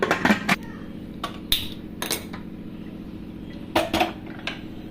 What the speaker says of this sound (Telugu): వాటర్ పోసుకొని మూత పెట్టేసి స్టవ్ మీద పెట్టాడు